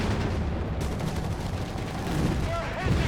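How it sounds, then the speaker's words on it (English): Dense battle din from Company of Heroes 3, with a continuous roar of gunfire and explosions as an anti-tank shot strikes and bounces off a StuG G assault gun; loud and steady, with no single impact standing out. "anti-tank shot bounces off the Stug"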